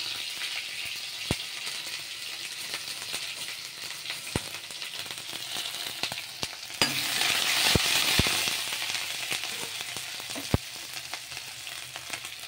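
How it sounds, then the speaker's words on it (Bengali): Curry leaves and grated ginger fry in hot oil with cumin, a dried chilli and a bay leaf, giving a steady close sizzle with occasional sharp clicks and a louder crackling swell partway through. "কারি পাতা দিলাম, আদা ঘষে রেখেছিলাম সেটা দিলাম"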